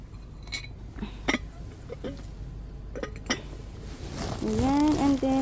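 Metal spoons and a pot clink in short, scattered bursts while being handled at a dumpster in Korea, followed by a voice talking.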